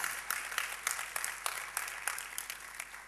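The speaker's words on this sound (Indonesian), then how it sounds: "Tepuk tangan bagi Allah kita." A congregation claps during a church sermon, faint and somewhat distant, with sharp, fairly regular claps standing out from a softer bed of applause.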